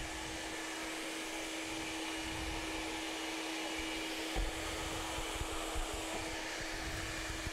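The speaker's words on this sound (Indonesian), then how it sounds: "dengan menggunakan hair dryer" A hair dryer runs steadily throughout, drying hair after a smoothing treatment in a salon, with a constant loud blowing hum and a steady tonal whine and no talking.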